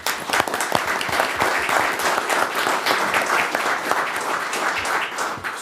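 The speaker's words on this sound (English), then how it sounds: "a round of applause goes to their family here for the continued support" Steady applause from a board meeting audience honoring police officers' families, dense clapping sustained at an even level throughout.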